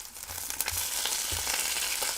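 Steak bacon sizzles loudly in a hot pan just after being flipped, giving a dense continuous frying hiss with soft low thumps and no talking.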